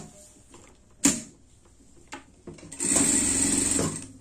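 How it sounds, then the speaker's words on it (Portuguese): Sewing machine stitching a pet harness, giving a brief whir near 1 s and then a steady close run of stitching for about the last second and a half, with quiet handling sounds between. "Aqui, a gente... faz uma costura aqui,"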